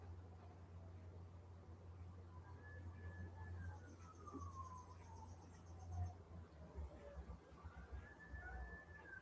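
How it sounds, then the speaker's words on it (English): A faint, distant ambulance siren wails, rising and falling slowly, over a steady chorus of crickets and low background hum. "Oh, it's an ambulance."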